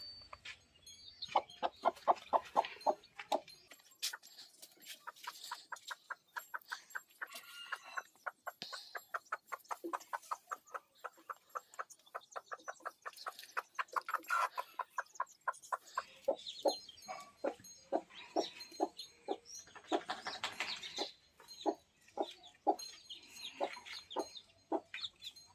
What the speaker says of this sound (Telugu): కోడి అయితే మనకి ఇక్కడ ఉంది